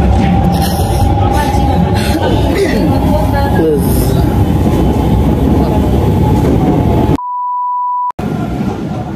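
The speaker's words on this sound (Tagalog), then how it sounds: "So nakasakay na kami ng tren ni na mother" A train ride in Osaka, Japan brings a constant, loud, noisy rumble of the moving carriage throughout, with a steady tone running underneath and a short, sharp electronic beep cutting in near the end.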